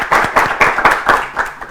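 An audience claps together for four young contestants at an Ethiopian children's TV competition show, a brisk, rhythmic applause with evenly spaced beats, close and fairly loud.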